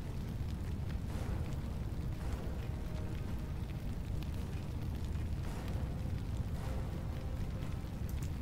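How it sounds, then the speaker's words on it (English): A precision bombardment in Warhammer 40k: Chaos Gate - Daemonhunters produces a dense, continuous roar of rumbling explosions. Deep crackling noise fills the space, with heavier swells rising at intervals and no pause. "Precision bombardment."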